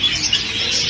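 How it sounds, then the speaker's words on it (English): Little birds chirping and tweeting in an aviary at a zoo in Santiago de Chile, a dense, steady chorus of high calls close by throughout. "Oh, look at the little birds."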